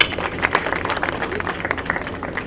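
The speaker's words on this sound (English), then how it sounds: "Let's all give them a big round of applause." A crowd claps in a dense, steady patter in an auditorium at Aligarh Muslim University, moderately loud and continuous throughout.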